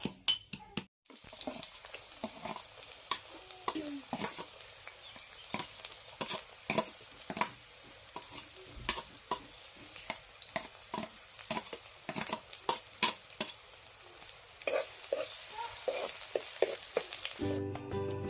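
Onions sizzle and crackle steadily in hot oil, with occasional stirring scrapes, continuous and close, with no voices.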